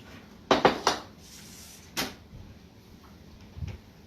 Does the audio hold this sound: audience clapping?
no